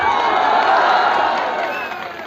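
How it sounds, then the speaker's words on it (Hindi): Loud, dense crowd noise at a Bhojpuri political rally, a sustained wash of clapping and cheering that holds steady for a couple of seconds before easing slightly at the end. "एक जोरदार ताली हमें।"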